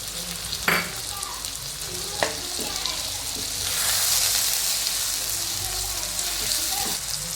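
Onion and tomatoes frying in a pan for hotel-style puri bhaji, a bright continuous sizzle that swells louder midway, punctuated by a few sharp clanks and scrapes of stirring, close up.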